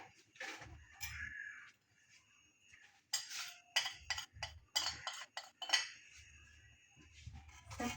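Spoon clinks and scrapes against a bowl in irregular bursts while boiled potatoes are mixed with coriander, chilli and spices, close and fairly quiet, with no talking.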